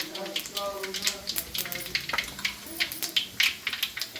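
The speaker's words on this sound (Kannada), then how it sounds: "ಸಾಸ್ವೆ ಚಟಪಟ ಅನ್ಬೇಕು" Mustard seeds crackle and pop in a small measure of hot oil for North Karnataka choda, giving dense, irregular sharp snaps over a steady sizzle, close and fairly loud, with a voice faintly present at times.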